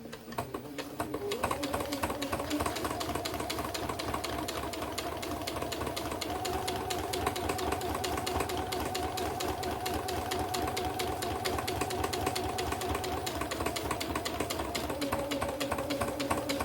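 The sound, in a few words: sewing machine stitching fabric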